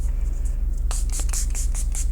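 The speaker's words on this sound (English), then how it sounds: "Now we're going in with the setting spray to keep it on all day." Milani makeup setting spray misted in a rapid series of short hissing pumps, about eight quick bursts close up after a brief quiet moment, with a low steady hum behind.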